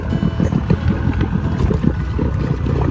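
A Stacer 379 aluminium boat with a Yamaha 30HP outboard engine idles. The motor gives a steady, close, low chugging rumble with a rapid pulsing rhythm and no voices over it.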